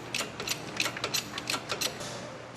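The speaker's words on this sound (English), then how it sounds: "Chris, why don't you take that jack out of the back from underneath the transmission" Mechanical ratcheting and clicking from a jack being lowered and pulled out from under a car's transmission during an IS300 engine and transmission swap; irregular metallic ticks and scrapes, fairly quiet, with no talk.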